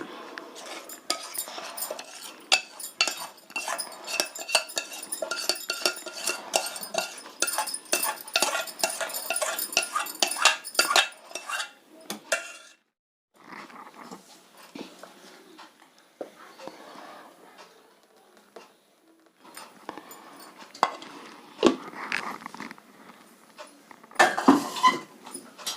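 A utensil clatters and scrapes rapidly against a bowl while butterscotch ice cream mixture is beaten, in busy bursts that pause briefly and then start again, at moderate volume.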